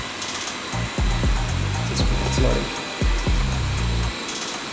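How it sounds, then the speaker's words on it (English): A robot vacuum cleaner works across a room with a steady loud whirring motor and brush drone, punctuated by repeated low thumps and shifting pitches as it moves, while a person speaks briefly over it. "So now it's cleaning the room."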